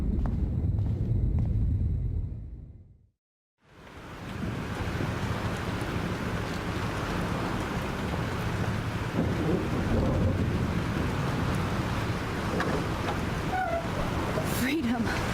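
Storm scene in the Life is Strange video game: roaring wind and rain fill the clip as loud broadband noise. After a brief silence near the start, the roar returns and runs continuously to the end.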